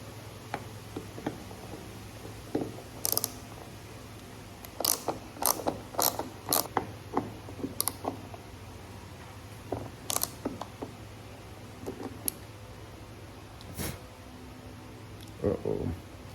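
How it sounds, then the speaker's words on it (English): Torx screws being worked loose from a Toyota Tacoma roof rack, giving scattered ratcheting clicks and short mechanical bursts with pauses between them, close by over a low steady hum. "So let's take those screws out."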